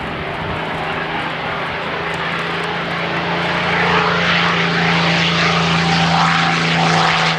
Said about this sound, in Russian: и штурмовик оторвался от земли.